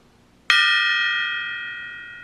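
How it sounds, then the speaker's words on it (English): A small gong struck once for a daily sound-healing practice, a single clear strike that rings on with a bright, shimmering sustain, slowly fading in a quiet room. "we'll do a little gong today"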